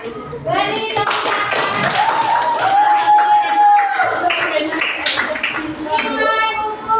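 Middle-school students in an Indonesian classroom clap a rhythmic 'tepuk cinta' pattern, brisk group clapping mixed with children's voices and chanting, close and lively throughout.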